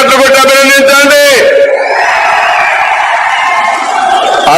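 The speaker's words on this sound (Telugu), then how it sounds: "గట్టిగా చప్పట్లు కొట్టి అభినందించండి." At a political rally in Dharmavaram, a loud amplified speaker's voice gives way to a big crowd roar of cheering and clapping that carries on to the end.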